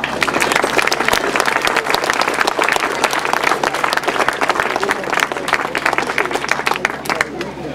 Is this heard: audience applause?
yes